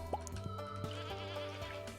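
Goats bleating in the farming game Stardew Valley, several short wavering bleats with dripping game sounds behind them, fairly quiet.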